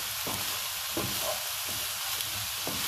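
Salted eggplant pieces fry uncovered in a pan over high flame, giving a steady, close, dense sizzle with faint crackles and stirring rustles throughout, and no voices.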